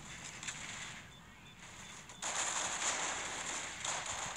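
Gunfire sounds in the mobile shooter game Critical Ops during a team match. Muffled shots and bursts come at moderate volume over a constant hiss, with a louder stretch in the second half.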